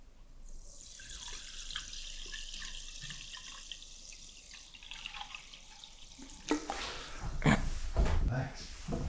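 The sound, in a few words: pouring sparkling water into a glass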